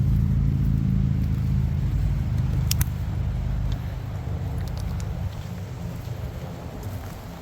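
Harley-Davidson motorcycles pass on a Volusia County, Florida road during Bike Week, a deep low rumble that slowly fades, mixed with buffeting wind noise on the microphone.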